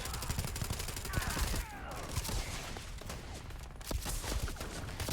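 Gunshots in the video game Starfield, with rapid repeated firing throughout, dense bursts of crackling shots from a space combat fight, and speech mixed in.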